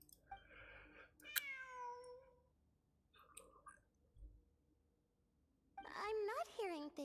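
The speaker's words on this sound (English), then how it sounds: "I'm not hearing things. It really is a cat." A cat in the video game Genshin Impact gives several clear meows, a longer one early and a louder run of wavering calls near the end, with soft game sounds between.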